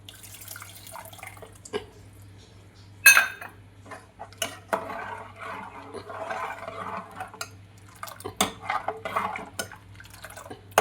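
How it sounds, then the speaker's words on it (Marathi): Water pours from a bowl into a cooking pot of kadhi, with pouring splashes arriving in short bursts between sharp metal clinks and scrapes of the bowl against the pot, all close and fairly quiet. "त्याच वाटीनं मी पाणी घाले"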